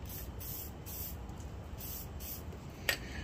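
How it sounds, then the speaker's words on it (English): Several short, rhythmic bursts of WD-40 aerosol spray hiss close by onto a metal file, followed by a faint clink at the end. "I'm going to spray some WD-40 on here just so it doesn't flash rust"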